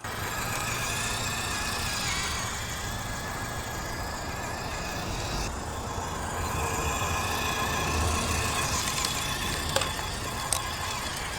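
An FMS Atlas 6x6 V2 RC crawler drives over gnarly rocks with a steady electric motor whine and grinding, continuous and moderately close, with a few sharp knocks near the end.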